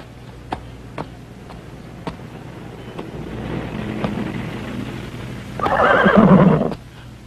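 A horse gives a loud, close whinny near the end, after a series of sharp clip-clop knocks and rising wind noise around it.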